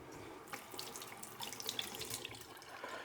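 A tap runs to wet a shaving brush, a close, steady stream of water splashing into a sink with small spattering bursts throughout, no talking.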